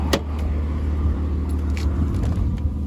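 A battered 2001 Acura TL with a destroyed bumper and freshly repaired power steering pulls away, its engine a steady low rumble close by, with a few small clicks on top and no talk.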